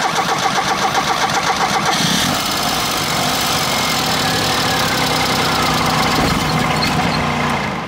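Car engine fitted with a CNG gas kit cranks and catches, then settles into a steady, loud mid-pitched idle close by, running continuously without stalling.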